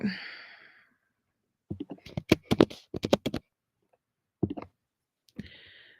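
Keystrokes on a computer keyboard clatter in short irregular bursts, close and fairly faint, framed by a brief breathy sigh-like sound at the start and a soft hiss at the end, with no talking.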